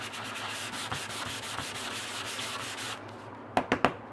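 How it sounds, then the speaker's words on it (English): Glossy cardstock is sanded by hand with steady, close, rasping back-and-forth strokes for about three seconds, then a pause and a few sharp taps. "so I just sand down"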